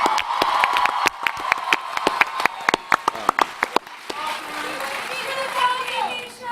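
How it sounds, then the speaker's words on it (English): An audience at a 2014 Comic Con Supernatural panel claps in a quick burst of distinct, close claps for about four seconds, then a voice speaks over lingering crowd murmur. "We need to give you applause"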